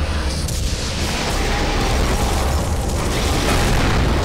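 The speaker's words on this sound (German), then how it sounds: "Im direkten Nahkampf, da ist die Schrotflinte richtig geil." Shotgun blasts in the Doom 3 video game during close-quarters combat: loud, booming shots run together in a dense, continuous barrage of explosive bursts and mechanical clatter.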